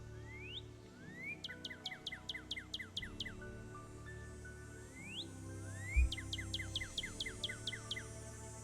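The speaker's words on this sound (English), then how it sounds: "Northern cardinal." A northern cardinal calls in Nancy Drew: Ghost Dogs of Moon Lake, clear rising whistles followed by rapid series of sharp downward chirps, repeated twice, close and distinct over a low steady hum.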